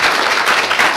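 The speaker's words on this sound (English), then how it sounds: "how about another nice round of applause for our wonderful organizers today at Erie Day of Code?" An audience at Erie Day of Code claps and applauds for the event's organizers, a dense wash of many hands clapping at once, sustained and fairly loud for the whole moment.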